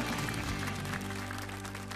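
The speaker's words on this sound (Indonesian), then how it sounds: "Tepuk tangan." A studio audience at a televised stand-up comedy battle bursts into applause, a dense, loud wash of clapping that holds steady for a couple of seconds over a low music bed.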